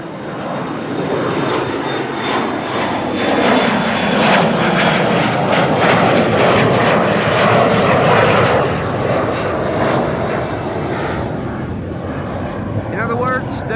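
Airliner engines roar at Amsterdam Schiphol Airport, a loud broad rumble that swells and slowly fades as an aircraft passes, with wind noise and voices talking.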